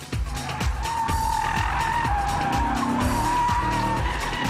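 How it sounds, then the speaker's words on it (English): Audi RS4 tires squealing hard through a handling test run by a German Automobile Club instructor: one loud, continuous high-pitched squeal that wavers slightly, over a steady engine roar. "Even after a few yards, the tires are squealing for mercy."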